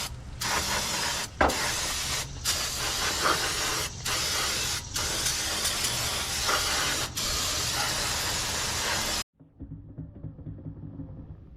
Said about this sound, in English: I like to spray everything down.